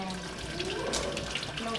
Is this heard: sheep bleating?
no